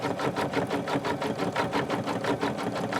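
Embroidery sewing machine stitching freestanding 3D flowers onto wire, a fast steady mechanical rattle of rapid needle strokes running continuously throughout, close and alone with no talk.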